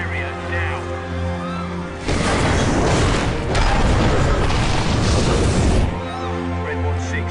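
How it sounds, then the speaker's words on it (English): A detonated device goes off in one big blast, a loud rumbling boom that roars for several seconds before fading back to a steady low drone. "the device has detonated"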